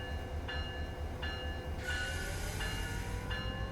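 Train from a railroad simulator game running on rails up a slight incline near San Bernardino, with a steady low rumble and rolling clatter, joined by a horn-like tonal blast midway, continuous and fairly close with no talk.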